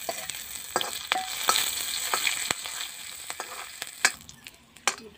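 Chopped garlic and chili fry in mustard oil in a kadai, giving a soft, crackling sizzle broken by sharp spattering pops and stirring clicks, fairly quiet and close with no talk.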